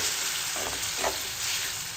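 Tempering sizzles in hot oil for a homemade pickle, a continuous crackling fry with a few brighter pops and spatters, close and steady with no talking.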